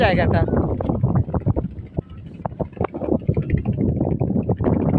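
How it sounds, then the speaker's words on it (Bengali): Gusty wind on a bridge footpath rumbles and buffets the microphone beneath a person talking, staying loud and steady throughout. "বাতাসের শো শো শব্দ তো শুনতেই পাচ্ছেন"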